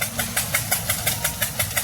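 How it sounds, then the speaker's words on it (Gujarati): A tractor engine chugs steadily close by during black gram loading in a field, its low thumping beat repeating at a quick, even rhythm with no voices. "આ ટ્રેક્ટર હાલતું તો તમે જોયું હોય તો"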